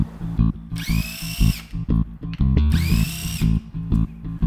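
Power drill or impact driver spinning out timing chain cover bolts on a Saab 900 engine, two loud whirring bursts with a rising pitch, separated by clanks and handling noises, close up with no talking.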